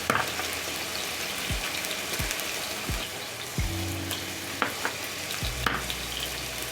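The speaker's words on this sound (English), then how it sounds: "I'm using shallow frying." Potatoes and sausages shallow-fry in a pan with a steady, close sizzle throughout, broken by a few soft knocks and scrapes from stirring. No one speaks.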